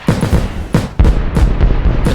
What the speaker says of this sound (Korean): 대포 쏜다 얘